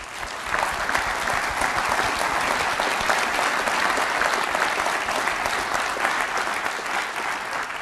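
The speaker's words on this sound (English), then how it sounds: "please, a round of applause for those who really have been working hard at this" A large conference audience applauds in a dense, sustained wash of clapping at a meeting on neglected tropical diseases, steady and full for the whole stretch with no talk on top.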